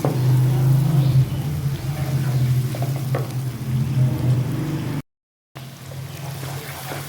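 Two to three medium onions fry over high flame in hot oil for chicken biryani, giving a steady, loud sizzle with stirring scrapes and a brief drop to silence partway through.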